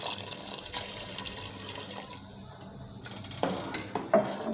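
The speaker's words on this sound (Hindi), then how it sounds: "अब इसमें 1 गिलास दूध का शामिल करेंगे" A glass of milk poured into a pot of cooking spinach makes a liquid splash and pour, followed by light stirring and a couple of sharp clinks at the end, close by, without speech.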